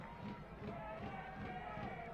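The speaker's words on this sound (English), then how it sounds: "A fantastic applause that is" A stadium crowd at a USL soccer match between Spokane Velocity FC and Sacramento Republic FC applauds in a steady, continuous roar that fills the space, with faint voices mixed in.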